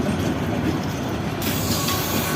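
The Kalni Express passenger train rumbles past at a station, a loud, continuous roar of rolling wheels and carriage noise up close, with faint rail squeal and no voices.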